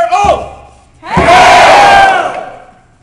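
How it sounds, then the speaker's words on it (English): Wedding guests at a handfasting ceremony shout a loud group cheer of "Hail!" in two bursts, a short call followed by a longer, fuller roar of many voices that swells and fades. "Let us honor their union with a cheer."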